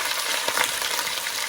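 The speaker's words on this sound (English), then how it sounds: "You can hear the sear." Lamb shanks sear in a hot pan with a dense, continuous sizzle and crackle, close and steady throughout with no other sounds.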